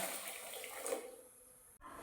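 Water poured from a bowl into a kadai of sugar for syrup, a brief, faint rushing pour that tapers off into quiet.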